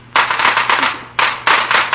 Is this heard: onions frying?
no